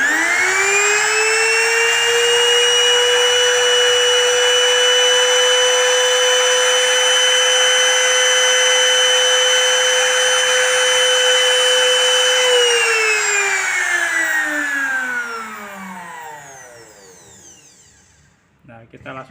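A Modern M2700 wood trimmer router rated at 440 watts runs at a loud, steady high-pitched whine, then spins down, its pitch falling away toward the end.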